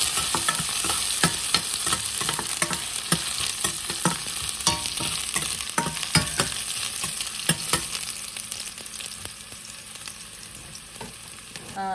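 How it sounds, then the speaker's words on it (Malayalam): Chopped shallots frying in hot oil for a Kottayam-style Kerala beef curry, a constant crackling sizzle broken by quick rhythmic stirring scrapes and clinks, near and fairly loud, with no voices. "അതിലേക്ക് ഞാൻ ഒരു 4-5 ചെറിയുള്ളി അരിഞ്ഞ് ഇട്ടിട്ടുണ്ട്"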